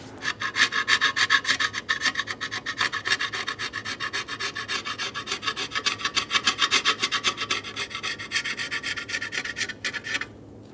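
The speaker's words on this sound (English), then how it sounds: "We're going to go around and clean the mating surface around this top cover using a razor blade or a light abrasive." A razor blade or light abrasive scrapes the engine top cover mating surface on a 2003-2008 Honda Pilot in fast, steady back-and-forth strokes, loud and close, stopping just before the end.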